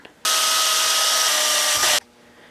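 A power drill whines loudly at a steady high pitch for under two seconds, drilling a hole in steel, starting and stopping abruptly, close up with no talking.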